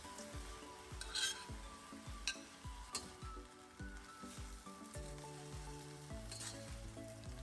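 Chicken, vegetables, sauce and noodles for mee goreng being stir-fried together, a quiet steady sizzle under repeated rhythmic scrapes and taps of a spatula mixing everything in the pan.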